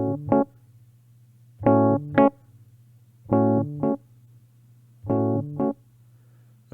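A piano plays a short rhythm exercise of four evenly spaced groups, each a pair of quick note clusters, over a steady low hum, with no talking.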